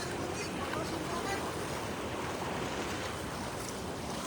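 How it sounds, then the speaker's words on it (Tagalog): River water released from a dam rushes loudly and continuously, a dense broadband roar with wind buffeting the microphone. "Nagpakawalan yung dam ng tubig, mga master. Lumakas na rin yung tubig."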